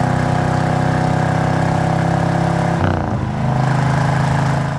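A 1972 Chevrolet Chevelle with an LS5 454 V8, stock muffler, four-speed and functional cowl hood rumbles loudly while driving. The engine drones steadily, then the pitch drops briefly during a shift before the deep rumble builds again.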